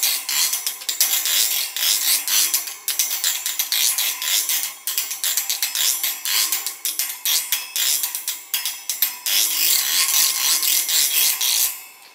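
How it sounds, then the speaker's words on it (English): A dish drainer is scraped as a friction percussion instrument, producing bright, dry rasping strokes in a quick, rhythmic pattern, close and fairly loud, with brief gaps between runs. "We have this the dish drainer."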